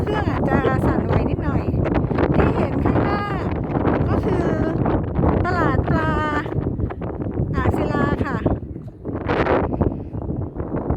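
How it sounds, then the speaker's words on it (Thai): Strong wind buffets the microphone on the Ang Sila fish pier in Chonburi, a steady loud rush of gusts running under a woman's speech throughout. "ลมค่อนข้างแรงนะคะ"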